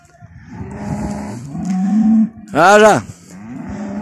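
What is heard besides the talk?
cows mooing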